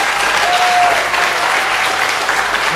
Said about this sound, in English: give Mr. Tony Singh a big round of applause